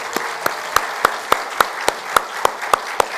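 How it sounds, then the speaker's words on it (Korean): A church congregation claps during a sermon, sharp even claps landing in a steady beat about three or four times a second, clear and close with no talking. "박수 한번 부탁드리겠습니다."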